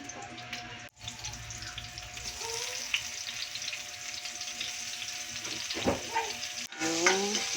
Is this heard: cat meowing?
no